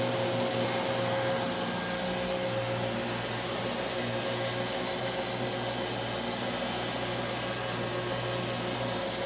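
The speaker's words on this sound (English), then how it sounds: "You can hear the Neato picking up quite a bit." Neato robot vacuum picking up scattered rice: a loud, steady motor whine with a constant suction roar and faint rattling of grains, close and unbroken throughout.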